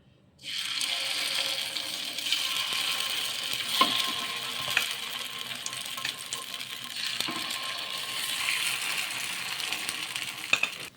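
Ridge gourd ponganalu fry in oil in a pan on low heat, a steady crackling sizzle that starts abruptly and holds throughout, with occasional sharp clicks from the pan or a spoon.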